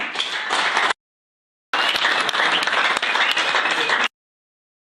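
A church congregation applauding in dense, steady bursts, a short round of clapping, a pause of silence, then a longer stretch of applause that stops abruptly, fairly close and without speech.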